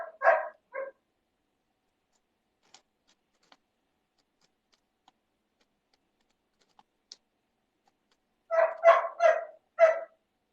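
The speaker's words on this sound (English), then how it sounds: "my dog's reacting to your dog." A dog barks in short bursts, two quick barks at the start and a rapid cluster of four near the end, fairly close in an otherwise quiet indoor room with faint ticks between.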